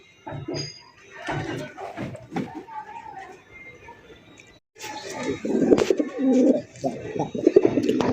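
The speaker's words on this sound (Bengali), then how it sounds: "একদম পাকা ডাকের রাজা মাশাআল্লাহ, দেখেন পুরো ডাকের ওস্তাদ, যে ডাকা ডাকে" Low, throaty coos from a deshi pigeon for sale repeat in short rolling phrases, fairly close, while a person talks intermittently over them.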